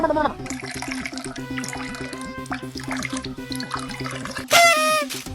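Water trickles and splashes as it is poured over hands for washing before a meal, heard under steady background music and voices, with a brief louder splash near the end.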